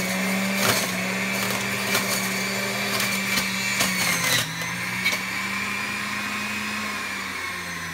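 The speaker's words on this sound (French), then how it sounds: "Donc, c'est une machine très ordinaire de juicer qu'on a." An ordinary home juicer grinds fennel, its motor whining steadily and loudly up close, with occasional rattling bursts as pieces are fed in.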